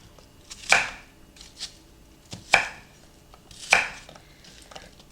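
Apples being rough-cut into big pieces with a knife on a board, three sharp, distinct chops spaced about two seconds apart with softer knocks between, close and clear with no talking.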